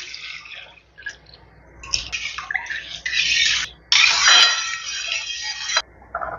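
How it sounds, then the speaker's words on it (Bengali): Lukewarm water is poured into a pan of curry, a close splashing and trickling pour that comes in several bursts, with the longest stream near the end and no talk. "দিয়ে দেব হালকা গরম জল।"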